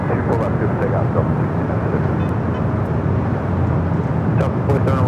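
An airliner at LAX on runway 24 left gives a steady, loud, broad jet rumble that fills the clip evenly, with a voice speaking over it.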